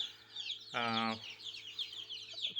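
Spotted chicks for sale on a poultry farm near Kodannur, Thrissur, cluck with a short, fairly loud call and faint high peeps around it, heard close with no talk.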